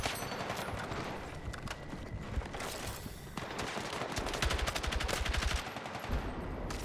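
Sustained automatic gunfire from the shooter game Battlefield 6 on a King of the Hill map, dense rapid bursts firing continuously and loudly throughout, with a faster rattling volley near the end.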